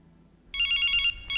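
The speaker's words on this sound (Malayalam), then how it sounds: "Whose phone is that?" A mobile phone rings in a classroom, a bright electronic ringtone starting after a short quiet pause, sounding loud and close for about half a second, then breaking off and beginning again.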